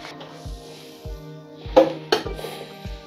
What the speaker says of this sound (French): On va sortir notre terrine du bain-marie.